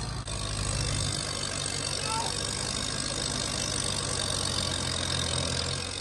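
A Mahindra 585 XP Plus tractor engine runs steadily under strain while pulling against another tractor, a constant low rumbling drone close by with faint voices in the background.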